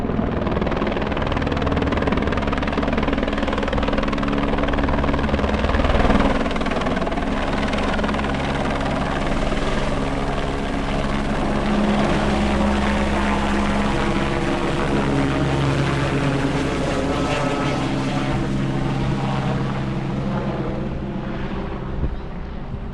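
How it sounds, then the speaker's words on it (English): Rescue helicopter hovering during a long-line rescue near Ama Dablam in the Himalayas, heavy rotor thumping and turbine whine continuous and loud for over twenty seconds, steady with slight swells, no voices. "showing that clip of the person being long line rescued from the helicopter"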